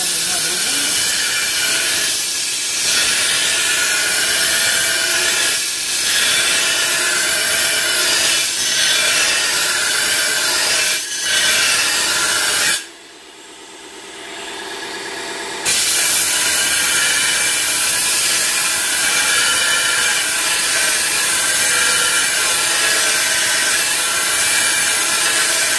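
An ADEMS sharpener grinds a garden shovel blade with a steady, loud, hissing scrape. The grinding pauses briefly partway through and then resumes.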